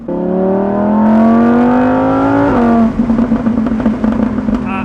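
A Lamborghini Huracan EVO, naturally aspirated, with a RYFT exhaust accelerates hard, its engine note climbing smoothly before an upshift, then crackling and popping from the exhaust, loud and close.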